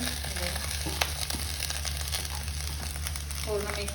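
Cooked rice sizzles and fries steadily in a hot pan with green onions for Schezwan chicken fried rice, close with occasional stirring scrapes and a voice briefly heard.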